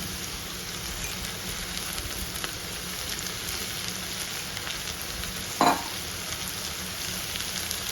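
Okra frying in a pan gives a steady, soft sizzle and crackle throughout, with one brief louder clink partway through and no talk.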